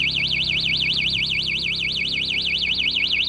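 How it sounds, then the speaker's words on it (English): A house security alarm is sounded during a test, giving a loud, continuous warbling electronic siren that sweeps up and down in a fast regular cycle with no pauses, over faint background hum. "testing the alarm. That's what you hear."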